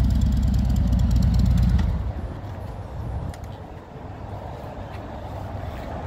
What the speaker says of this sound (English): Got some nice big Screaming Eagle pipes making all kinds of noise